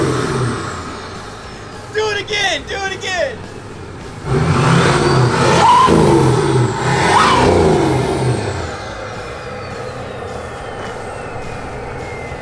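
A tuned Nissan Titan XD pickup revs its exhaust in a couple of loud surging blasts that fade off, with excited voices talking and shouting over the engine.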